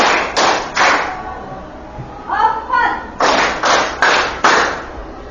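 Rhythmic hand clapping in a classroom counting game: groups of sharp, loud claps in a steady pattern, broken by a spoken count in the middle.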